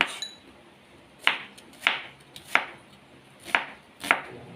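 Knife slicing onion on a cutting board for sautéed kangkong, six separate crisp cuts spaced about half a second apart, near and fairly quiet with no talking.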